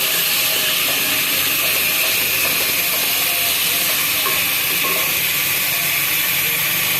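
Onions with garlic-ginger paste sauté in a pan, a loud, continuous sizzling hiss with faint scraping stirs, steady throughout with no talking.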